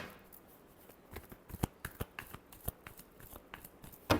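Tarot cards are shuffled by hand for a Leo reading: quick, close riffles and soft slaps in irregular bursts, quiet overall, ending with a sharper snap of the deck.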